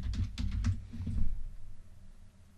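Keys on a computer keyboard are tapped in a short quick burst, then lighter scattered presses follow, close and moderately loud with no voices.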